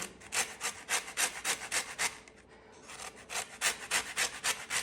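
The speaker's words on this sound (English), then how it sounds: "Now we're gonna zest an entire large lemon." A whole large organic lemon is rubbed against a zester in a steady run of rhythmic rasping strokes, pausing briefly midway before the scraping resumes, close and fairly quiet.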